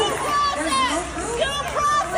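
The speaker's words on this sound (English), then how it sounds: "Listen to that crowd." Crowd at a political rally: a dense, loud babble of many voices with scattered shouts, rising and falling steadily without a break.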